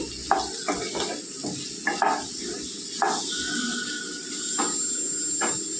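Small pieces of potato frying in oil in a pan, a steady close sizzle with scattered stirring scrapes and clinks over it.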